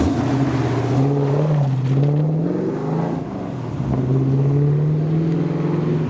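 A dark green AC Cobra driving past after a car show, its engine note droning steadily with a slight dip and swell in pitch as it passes, fairly close, with no talk over it.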